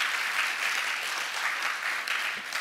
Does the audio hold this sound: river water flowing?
no